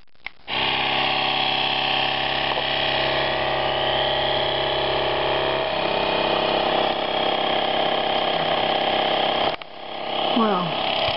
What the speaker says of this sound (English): Okay, just trying to turn the solar pump on.